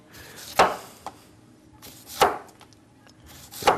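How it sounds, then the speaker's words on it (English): A kitchen knife chops onion on a cutting board during a stuffed butternut squash cooking demonstration: three sharp, separate cuts about a second and a half apart, with a softer tap between the first two, close and clear. "Chopping onions is real easy."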